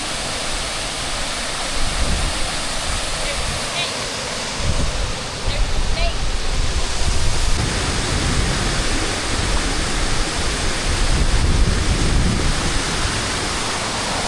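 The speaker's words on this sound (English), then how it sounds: "an amazing waterfall." A waterfall tucked back in a cove, reached by boat: a loud, steady rush of falling water fills the scene from start to finish, with rumbling low-end wash and no clear talking over it.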